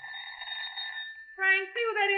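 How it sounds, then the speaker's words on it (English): An electronic door buzzer sounds in a steady tone, then gives two shorter, brighter buzzes in quick succession, clear and close. "I'd hardly settled down with my paper when the door buzzer rang"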